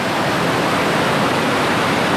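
Crabtree Falls, Virginia's tallest waterfall near Tyro, roars as a steady, loud, broadband wash of falling water, close and continuous with no voices over it.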